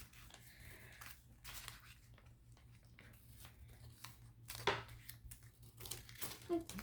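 Scissors snipping paper while a child cuts along drawn lines for a homemade Christmas card, soft intermittent crisp snips and crinkles close by, with a sharper cut near the middle, over a low steady background hum.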